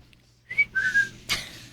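A person whistles a few short, clear notes, a brief rising tone then a slightly longer held pitch, close and alone in a quiet room, ending with a soft breathy burst.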